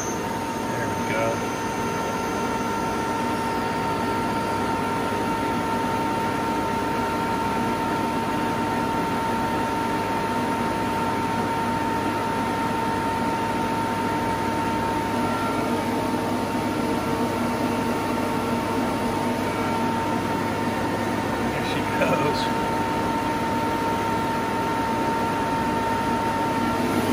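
A refrigerant recovery machine pulling from the high side while servicing a Manitowoc ice machine: a loud, steady mechanical hum and whine with a constant tonal drone that runs unbroken the whole time.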